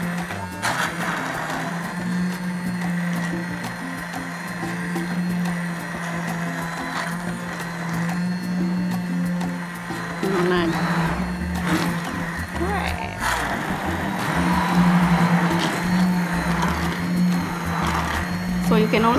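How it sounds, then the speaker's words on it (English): A kitchen blender whirs steadily while blending tomato soup ingredients, a loud motor hum that holds for a long stretch and rises in intensity near the end, with people talking over it. "So you can also use a blender."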